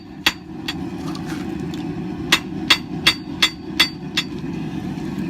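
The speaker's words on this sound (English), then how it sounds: "Now it's time to forge down the bevel." Sharp hammer strikes forging the bevel on a steel Viking spoon knife blade, struck at an angle from spine toward edge. A few scattered blows are followed by a steady run of about six ringing, evenly spaced hits over a low background hum.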